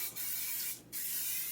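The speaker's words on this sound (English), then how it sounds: "Spray a little bit of the good stuff." Cooking oil spray hisses into a warm pan while a flour tortilla pizza snack is prepared. There are two short, sharp bursts of spray, one near the start and one in the middle, over a steady background hiss.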